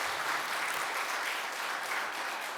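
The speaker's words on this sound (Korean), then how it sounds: "우리 목사 되신 것을 크게 환영하며 축하해 드리는 박수 한번 올려드리겠습니다" A church congregation claps steadily in a welcoming round of applause for a newly ordained pastor during a Sunday worship service, a dense continuous patter with no voices.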